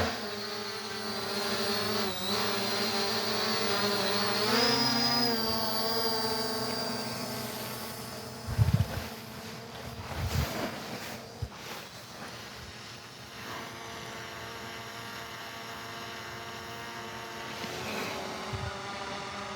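TL16 GPS drone taking off and flying, a steady whining motor hum with high rotor tones that rise as it lifts, holding fairly even with a few soft knocks, no talk.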